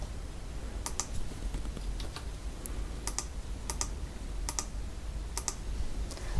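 A computer keyboard clicks in brief clusters as Photoshop CC 2021 shortcuts are typed, with sharp, close keystrokes spaced every second or so over a steady low background hum and no talking.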